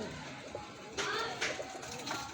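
A breeder's pigeons coo softly at close range with a low, throaty rolling call, alongside faint rustling.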